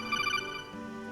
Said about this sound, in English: Oh damn, wonder who's texting me.